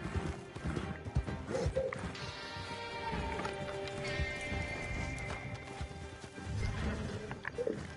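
Horse hooves clip-clopping in a western video game, a run of close, fairly loud hoofbeats with a snort or whinny partway through and little talk over it.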